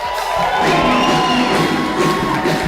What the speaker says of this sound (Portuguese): Uma salva de palmas para esse cara.